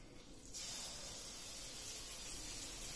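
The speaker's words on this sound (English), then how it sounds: "you want to hear that sizzling sound" A marinated pork chop drops into a red-hot, unoiled pan and bursts into a loud, steady sizzle that holds evenly from start to finish, close and alone with no talking.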